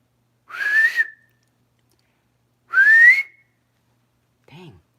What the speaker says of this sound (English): Dang, I can't whistle tonight.